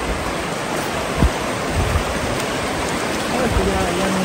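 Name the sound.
river water flowing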